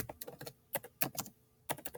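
Quick bursts of typing on a computer keyboard, with uneven clusters of crisp key clicks separated by short pauses, recorded up close and fairly quiet, with no voices.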